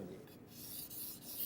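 A chef's knife is drawn up and down across a whetstone by hand in a steady, soft rasping rub, faint and close with no voices.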